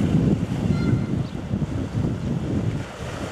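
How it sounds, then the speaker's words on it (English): Sea waves wash onto the shore on the coast near Reculver in a steady, surging roar, overlaid by heavy wind buffeting the microphone, with no voices heard. "Harness those waves."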